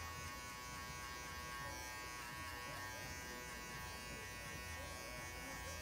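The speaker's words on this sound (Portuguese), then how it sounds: "Eu só vou ficar aqui com a máquina, fazendo esse movimento em curva para conseguir graduar." Electric hair clipper with a 1.5 guard cutting a fade, a steady close buzzing hum running continuously with no pauses.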